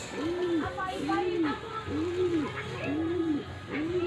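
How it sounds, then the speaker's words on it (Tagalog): Pigeons coo in a steady series of five soft, rounded calls close by, each a low rolling hoot repeated at a regular pace over faint background noise. "At ito po ang ating mga kalapati."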